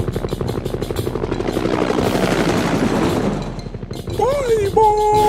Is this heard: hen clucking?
no